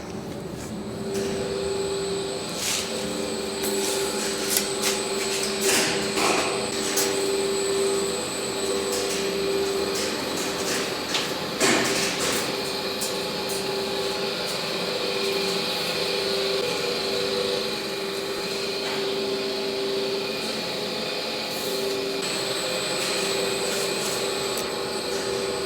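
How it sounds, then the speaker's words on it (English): Ventilation fans running in a tower block fan room, a steady loud mechanical roar with a sustained hum and occasional clanks and knocks, unbroken and close for the whole stretch without speech. "We now go into the room where the fans are."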